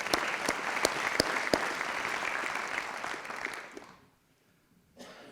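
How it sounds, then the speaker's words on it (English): A crowd claps steadily at a swearing-in ceremony for elected officials, with a few sharp individual claps, then the applause fades to near silence before a brief final burst. "Round of applause."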